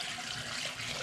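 Cold tap water pouring steadily into a pot for boiling potatoes, a brief, even rushing splash heard up close at low volume.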